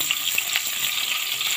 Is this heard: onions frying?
yes